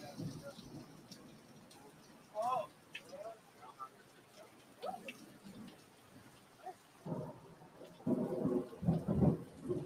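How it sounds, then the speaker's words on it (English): Steady pouring rain hisses faintly in the background while several louder bursts and rumbles rise over it, thickening toward the end, with indistinct voices and movement close by. "Pouring down rain, came and got them."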